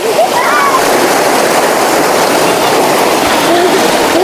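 River water rushes and splashes loudly and continuously at a family campsite at Ranca Cangkuang, Bandung, while children's voices break through faintly now and then.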